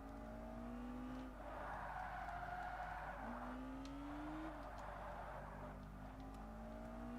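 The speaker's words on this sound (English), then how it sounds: "Oh, because we spun out." Race car in Forza Motorsport, a Lotus Exige Cup car, spinning out after tapping a wall, with sustained engine drone and rising and falling tire squeals and skidding over several seconds, moderately loud.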